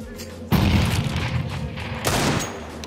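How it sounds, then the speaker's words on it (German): A grenade detonates in CS:GO, a sudden loud boom at close range followed by a second blast-like burst a moment later, with sustained rumbling noise between them. "Grenade out."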